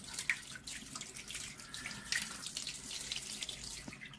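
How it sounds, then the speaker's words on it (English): Tap water runs steadily over the mirror of a SkyWatcher 300P 12-inch Flextube Dobsonian telescope as it is rinsed. The splashing flow shifts slightly as the mirror is turned, close up, with no talking. "I will turn the mirror a little bit just to make sure that all corners of it is receiving the water."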